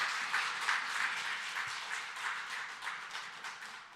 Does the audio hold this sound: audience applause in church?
yes